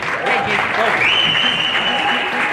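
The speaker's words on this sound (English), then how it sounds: "All right, round of applause," A tournament crowd applauds as the Castleton team comes out, continuous dense clapping with cheering and a whistle-like voice rising above it.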